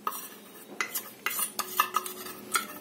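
A spoon stirs cornflour into a pot of hot and sour vegetable soup, producing a series of light clinks and scrapes against the pot at an uneven rhythm, fairly quiet and close.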